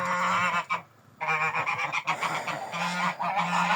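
A flock of gray domestic geese, one gander with six or seven hens, honks loudly and continuously up close, with one brief lull before the harsh, overlapping calls resume.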